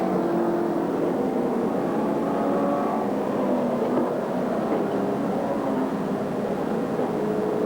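Speedway race cars, among them a 1975 Camaro, roar around an oval track in a sustained, droning engine wash that holds steady and loud without a break, the pitch shifting slightly as the cars circle.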